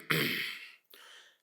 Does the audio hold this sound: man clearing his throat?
yes